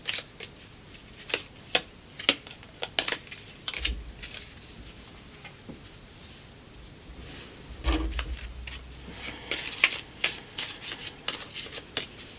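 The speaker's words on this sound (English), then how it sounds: "as I shuffle the card for you to look into the rest of your message" A deck of oracle cards is shuffled by hand in quiet surroundings, giving repeated crisp riffling bursts and soft flicks in an irregular rhythm, close and clear with no talking.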